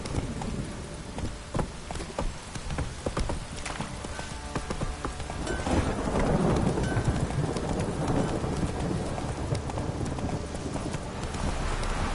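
A horse gallops in The Witcher 3, its rapid hoofbeats clopping steadily against a dense wash of rain and distant rumbling thunder that swells partway through, with no talking.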